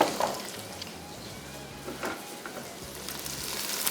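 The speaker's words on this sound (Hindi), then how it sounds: "सबसे पहला काम हम शामिल करेंगे इसमें स्लाइस किया हुआ प्याज और इसको करेंगे फ्राई।" Sliced onions sizzle in hot oil for mutton keema, a soft, steady frying hiss at low level with a faint low hum underneath and occasional light clinks.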